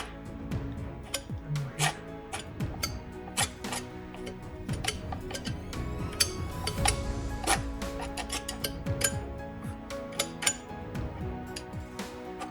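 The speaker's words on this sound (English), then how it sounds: "The sound that this palette knife is making." A palette knife scrapes and taps across a painted surface while working on an abstract koi painting, giving a steady run of close, crisp clicks and scratchy strokes throughout with no talking.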